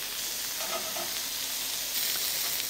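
Prawns searing on a very hot ridged griddle pan, a close, even, hissing sizzle that holds steady and swells slightly toward the end.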